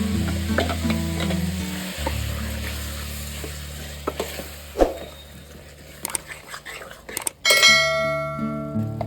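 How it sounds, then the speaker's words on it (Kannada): Ground masala is added to sprouted legumes frying in oil, giving a steady sizzle with stirring and metal utensil scrapes against the pan, then a louder, brighter surge of frying near the end. "ಈ ಎಣ್ಣೆಯಲ್ಲಿ ಬಾಡಿರುವಂತ ಕಾಳಿನ ಒಳಗಡೆ ಈ ಮಸಾಲೆನ ಹಾಕೋಣ"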